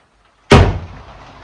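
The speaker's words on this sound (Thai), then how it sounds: "ประตูเราเป็นประตูไม้เนี่ย แล้วแบบเวลาฝนตกอะ เปิดยากมาก" A rain-swollen wooden door that sticks is yanked open with one sudden loud thud and rattle, followed by a short fading scrape and ring.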